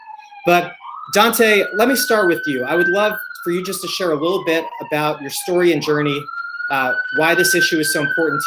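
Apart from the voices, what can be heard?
emergency sirens in the background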